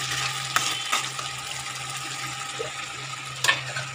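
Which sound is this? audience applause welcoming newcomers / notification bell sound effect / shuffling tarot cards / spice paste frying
spice paste frying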